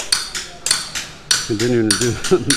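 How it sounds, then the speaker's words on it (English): Concrete is chipped by hand with hammers and chisels in a garage on a Philippine house-building site, sharp metallic strikes in an irregular rhythm, with voices talking over some of the blows. "as you can hear all the chipping"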